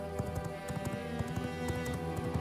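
Horse hooves clip-clop at a brisk, steady rhythm in the V Rising video game, a continuous train of close thuds over a dense layer of game music and ambience.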